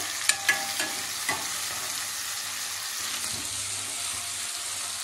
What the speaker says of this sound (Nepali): त्यसमा टमाटर हल्का फ्राई हो, त्यसको बादमा म चिकन हालिदिन्छु